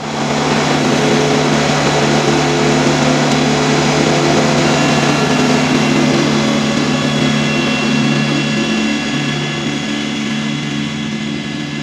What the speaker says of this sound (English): I'm going to go ahead and get the tractor warmed up.